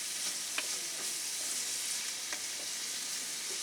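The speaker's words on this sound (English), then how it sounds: "we'll mix that in there and just let these onions keep sweating down" Onions sweat in a pan with a little sugar while being stirred, giving a soft, quiet sizzle with occasional scraping strokes from the spoon.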